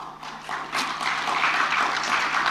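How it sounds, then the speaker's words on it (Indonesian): Subdued, thin applause from an audience at a book launch in Indonesia rises slightly midway and then continues steadily without much energy. "tepuk tangan aja kan kelihatan dong nggak meriah"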